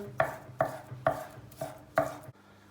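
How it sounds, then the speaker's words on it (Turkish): Five sharp knife chops through chicken fillets on a cutting board in an even rhythm, close and distinct, then a brief quiet tail. "Tavuk filetoları çok ince doğrayacağız."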